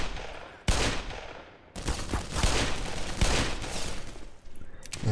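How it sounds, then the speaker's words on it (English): A revolver fires repeatedly in the shooter game Black Mesa, with loud, dense bursts of gunfire that run back to back through the whole stretch and no talking. "there's some ammo for the revolver here as well, so I guess what I'm going to do is shoot the full clip"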